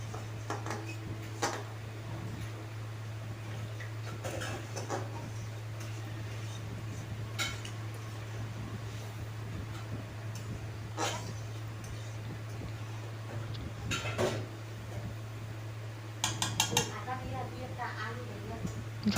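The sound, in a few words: stirring chickpea ghugni curry in a pot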